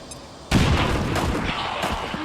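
A grenade detonates in the video game XCOM 2: after a short quiet lead-in, a single loud, close blast hits and then rumbles and crackles as it decays over the next two seconds.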